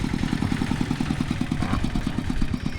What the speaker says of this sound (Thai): เขาจะใส่รถไถซิ่งกันในการเดินทางต่างๆพี่น้องเห็นป่ะ